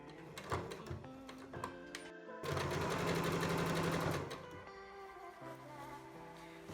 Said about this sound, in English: I'm going to sew it quite close to that edge